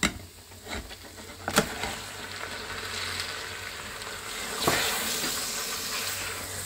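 Mutton pieces dropped onto fried onions in a hot pan for nihari give a steady, close sizzling hiss, with a couple of sharper spitting bursts partway through. No one speaks.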